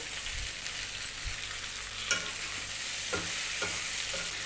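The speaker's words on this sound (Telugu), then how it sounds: "ఇప్పుడు ఫ్లేమ్ని మీడియంగా చేసుకొని బెండకాయలని ఫ్రై కానివ్వాలి" Okra pieces fry in a pan over a medium flame, a soft continuous sizzle with occasional stirring scrapes and taps from a spatula, no voices.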